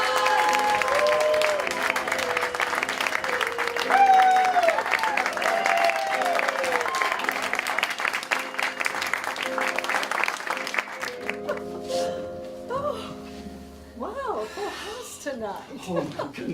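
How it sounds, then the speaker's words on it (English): A live show audience claps for celebrity guests, with applause and some chuckles at the start, then fading as people begin talking and laughing. "Can we give them a round of applause?"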